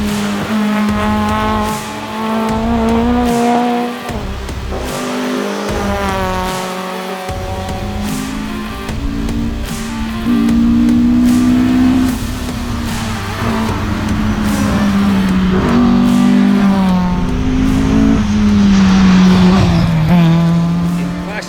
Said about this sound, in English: The tussle behind it was tight, with the overnight leading Fiat falling into the clutches of Glusky and Winter's BMW